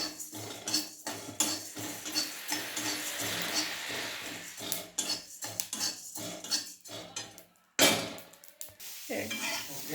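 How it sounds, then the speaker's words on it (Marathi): Coriander and cumin seeds are dry-roasted in a pan, stirred with a spoon. Close, continuous scraping and metallic clinking carries a faint sizzle underneath. "मी आता धने जिरे भाजून घेते"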